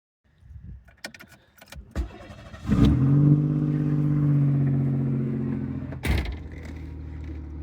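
A Chevrolet Beretta engine barks to life with a few sharp blips, then roars into a sustained high rev before a final quick throttle stab, loud and close.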